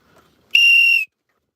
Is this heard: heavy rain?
no